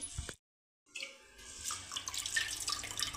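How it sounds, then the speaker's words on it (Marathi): Water sloshing and pouring as pearl millet is washed and drained in a vessel, a brief splash, a short pause, then continuous close trickling and swishing of water and grain. "आता 3रं पाणी टाकून घेतलेलं आहे आणि आता ही बाजरी आपल्याला उपसून काढायची आहे."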